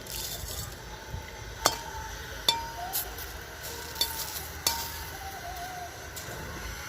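Whole cumin and dried chillies sizzle in oil in a wok, a low steady crackle broken by several sharp metallic clinks and taps of a spoon against the pan.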